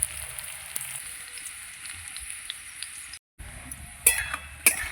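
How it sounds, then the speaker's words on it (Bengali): Baby corn pieces fry in hot oil, giving a steady sizzle throughout, with a brief silent gap and a few sharp metallic clinks of utensils near the end. "এইভাবে সবগুলো ভেজে নেবো আমি"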